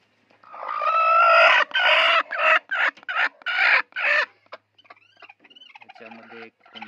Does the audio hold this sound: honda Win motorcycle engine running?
no